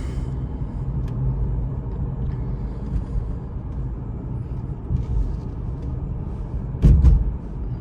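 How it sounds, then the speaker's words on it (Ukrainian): A used first-owner car drives steadily along a road, its low engine and tire rumble continuous and even from inside the cabin, with a brief louder bump near the end. "Машина просто їде рівнесенько."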